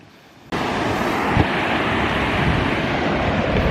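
Waves wash onto a beach at the start of the Great Ocean Road, a steady broad roar of surf mixed with wind buffeting the microphone. It starts abruptly and stays loud and continuous.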